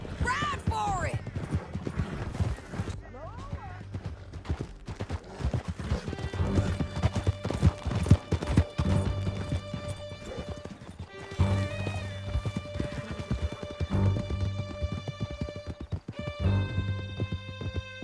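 Galloping horses pound along in Red Dead Redemption 2, their rapid hoofbeats joined by neighs and whinnies, a droning musical score and scattered gunfire, with voices shouting over the chase.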